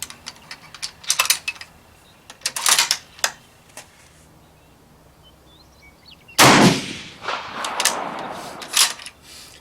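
A Noveske AR rifle fires at a shooting range. Sharp, scattered cracks and clicks build to one louder, broad report, followed by a few lighter impacts.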